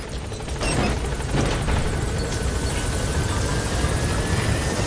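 Helicopter arriving at a landing zone in Metal Gear Solid V: The Phantom Pain, a steady rotor roar and engine drone rising early and holding loud and close throughout, with no talk.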